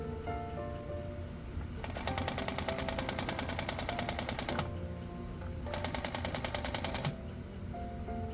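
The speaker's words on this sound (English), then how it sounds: "I can then sew all the way across the seam without worrying about shifting." A sewing machine runs in two bursts of rapid, even stitching across a mink fur seam, with a brief pause between them, close and fairly quiet with no voices.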